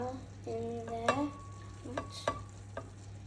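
Passata poured into a pan of simmering enchilada filling and stirred, with a few soft scraping strokes and faint sizzling over a steady low hum, no talking.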